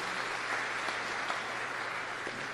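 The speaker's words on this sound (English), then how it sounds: "And you can applaud because it really is something." Audience applause at a public event in Peabody City Hall, a steady, even wash of clapping from a seated crowd that holds at a moderate level throughout without breaks.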